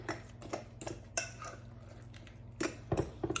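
Shredded cheese being mixed into cornbread batter with a utensil in a bowl: scattered soft clicks and taps of spoon against bowl, irregular and fairly quiet, with a low steady hum beneath and no speech.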